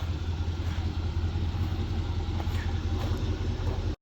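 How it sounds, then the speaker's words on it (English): A 1979 Chevrolet Camaro Z28 V8 idles close by with a steady, even rumble for several seconds, mechanical engine noise dominating over the exhaust, with no talking. "The motor is louder than the exhaust."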